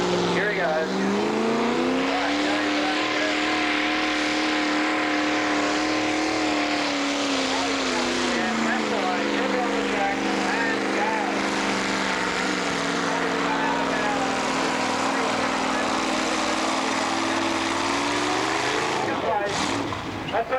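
A tractor engine roars at full power during a 1985 country tractor pull, a loud sustained drone that dips and rises in pitch as it strains down the track, with an announcer talking over it.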